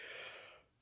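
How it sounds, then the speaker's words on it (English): A single breathy yawn, close and quiet, as a brief airy inhale that fades out within a second. "sorry, I yawn."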